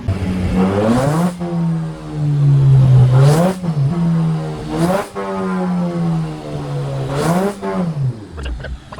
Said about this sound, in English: I was literally revving this thing to redline over and over and over and over again